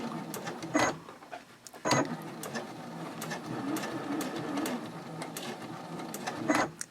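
Home sewing machine stitching a curved seam on a fabric pouch one stitch at a time, giving short separate mechanical bursts with brief pauses between them, close and fairly quiet.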